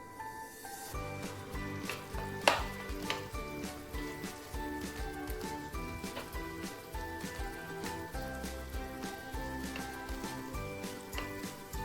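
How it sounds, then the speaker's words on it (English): Yoghurt puff puff dough frying in oil over medium heat, a steady soft sizzle and bubbling that runs throughout, fairly faint and close, with no talking. "And continue my frying."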